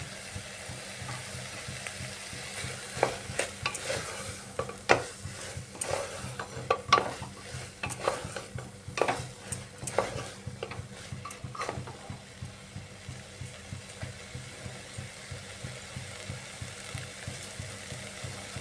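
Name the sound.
frying soybean and kidney bean ghugni with green chilies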